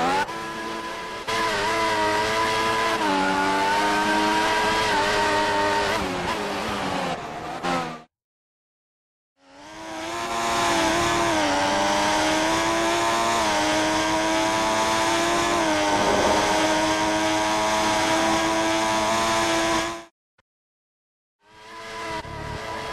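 Race car engine in a racing video game on a Singapore circuit, revving hard with rising and falling pitch through gear changes, loud and continuous with two brief silent gaps.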